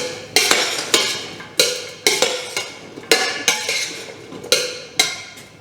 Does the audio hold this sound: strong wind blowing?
no